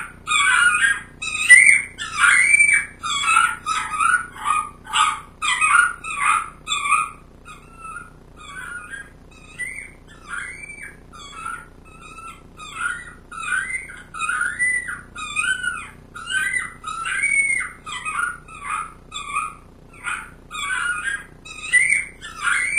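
A predator call imitating a coyote pup in distress, a long run of high, squealing yelps and whines in quick bursts, loud and close with short gaps between cries.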